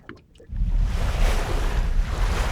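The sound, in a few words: ocean waves on the water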